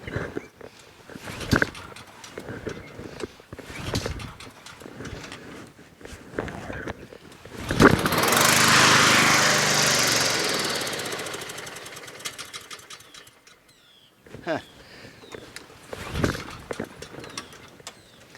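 A Honda HRT216 Harmony II Quadra Cut push lawn mower with a carburetor fault runs unevenly, giving sharp sputtering knocks and bursts, then a brief surge of loud engine roar before it falls back to irregular popping.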